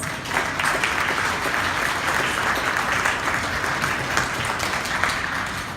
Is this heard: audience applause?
yes